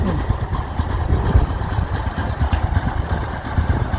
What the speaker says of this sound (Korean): 시동을 걸게.